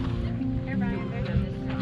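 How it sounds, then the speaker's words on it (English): Coots and other waterbirds call from the water at Lake Griffith in The Villages while wind buffets the microphone, with a voice talking over the low rumble. "There's coots out there, those little ducks, some ibises, I think, or egrets or whatever."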